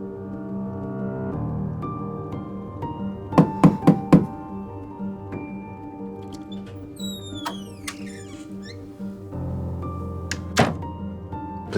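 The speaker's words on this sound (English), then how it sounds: "Please don't pound on the door" Heavy pounding knocks strike a door in a quick burst of three or four blows, then a single knock a few seconds later, all over quiet, sustained background music.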